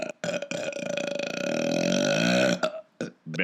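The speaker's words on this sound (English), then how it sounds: "He let fly another colossal belch." A single long, loud, drawn-out belch read aloud in an audiobook of Fantastic Mr Fox, rumbling and gurgling for nearly three seconds close to the microphone, followed by a few short breathy bursts.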